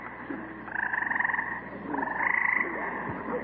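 Bullfrogs croak at a pond at night, two rhythmic bursts of throaty, pulsing calls at moderate distance over a quiet background.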